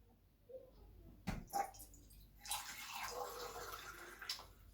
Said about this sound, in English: So I've got some water here. I'll just fill it up.